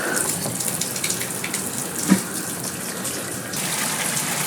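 Hot water gushes steadily from a hotel bathroom tap in a Japanese ryokan-style room, a loud, close, continuous splashing with a brief knock partway through.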